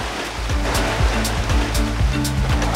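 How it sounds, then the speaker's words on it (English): Breaking ocean waves roar close and loud off a boat's starboard side, a dense continuous wash of surf with rhythmic surges and no talk. "Just saw some breaking waves to our starboard"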